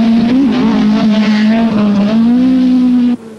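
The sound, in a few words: Toyota Celica Turbo rally car driving on special stage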